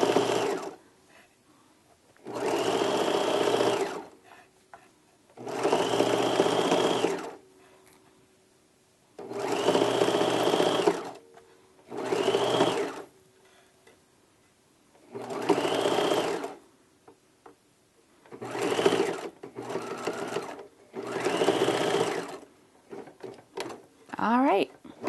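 A sewing machine stitches across the opening of a drawstring backpack casing in a string of loud whirring bursts, each lasting a second or two, separated by short pauses, with a voice talking faintly in places.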